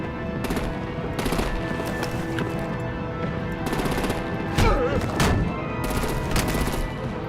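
Heavy automatic gunfire in a Batman: The Enemy Within game scene as artillery is turned on enemy vehicles, sustained loud bursts in repeated waves over a steady rumbling background.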